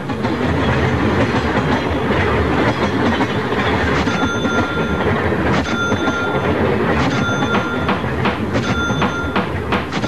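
A CSX freight train passes close by with a loud, steady rumble, clickety-clack from the wheels and a few thin squeals of metal, with no voices.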